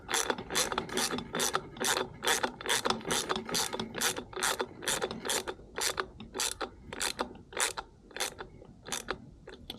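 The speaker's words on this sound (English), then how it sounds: "So the screw threads on there very, very nicely." A screw threading into a repaired disc brake thread on a hub motor makes a steady series of about twenty sharp ratcheting clicks, close and evenly spaced, that grow slightly softer toward the end, with no voices.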